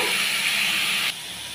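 Salted pumpkin pieces for kumror chechki fry in a pan with a loud, steady hiss that abruptly drops to a softer sizzle near the end.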